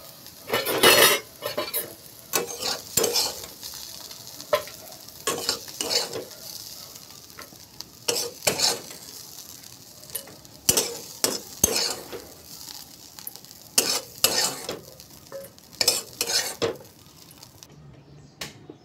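Bitter gourd being stirred and fried in a wok, with repeated scraping strokes of a utensil against the pan over a steady sizzle, close and fairly loud, with no talking.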